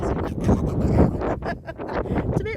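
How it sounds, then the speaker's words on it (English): Wind buffets the microphone in gusty low rumbles, with a voice talking briefly over the blustery noise. "as you can hear, it's a bit windy."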